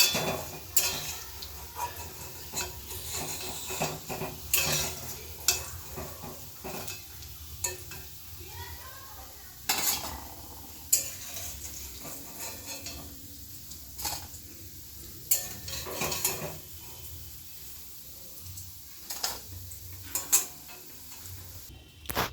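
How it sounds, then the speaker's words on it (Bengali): Raw banana fritters fry in hot oil with a soft, steady sizzle, broken by repeated sharp clinks and scrapes of a utensil against the pan, close by and with no talk. "বড়াগুলি দু পিঠি লাল লাল করে ভাজা হয়ে গেছে"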